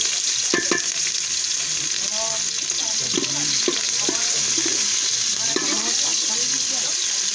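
Onions and chillies frying in ghee crackle and sizzle steadily in a pan, with scattered stirring scrapes and faint background voices over a constant hiss.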